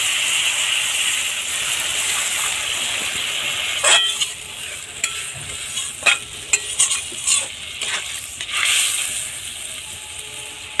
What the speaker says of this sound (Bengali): সবজি মশলা কষানো হয়ে গিয়েছে, এখন আমি একটু জল দিয়ে দিই।